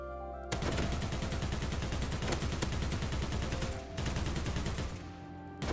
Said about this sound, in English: Alright, we're back to the M60. 87 rounds left.